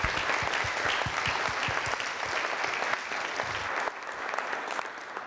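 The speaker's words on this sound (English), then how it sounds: "let's give it a round of applause for our panelists here." An indoor audience applauds a panel at a regenerative agriculture think tank, with dense, steady clapping and a few sharp louder claps near the start that tapers slightly toward the end.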